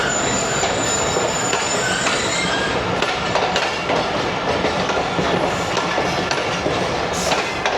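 The 7 Up Tezgam passenger train rolls into the station, loud and close, with steady rumbling wheels, rhythmic clatter over rail joints and thin squeals of braking metal throughout.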